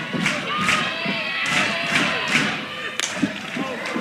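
A near-sellout crowd of about 2,300 buzzes and cheers at a college softball game between UCLA and Oregon, a loud continuous roar with rhythmic chanting swells and occasional thumps.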